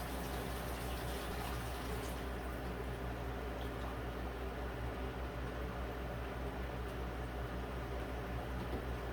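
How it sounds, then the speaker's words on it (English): Water pours steadily into a drilled fish tank as a loud, continuous gushing fill, with no break across the whole stretch. "Then we're going to put some water in here."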